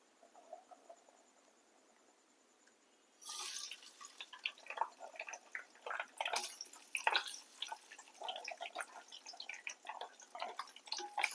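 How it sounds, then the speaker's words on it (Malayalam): Amul frozen french fries dropped into hot oil, a loud crackling sizzle of dense pops and spits that bursts in after a quiet start and keeps going close by. "നമുക്കിത് ചൂടായ എണ്ണയിലേക്ക് ഇട്ട് ഫ്രൈ ആക്കി എടുക്കാവേ."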